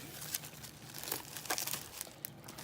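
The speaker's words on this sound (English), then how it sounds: "in some bubble wrap for it to be extra safe" Bubble wrap crinkles and crackles as an item is wrapped for shipping, a quiet, close run of irregular plastic rustles and small pops lasting a few seconds with no talking.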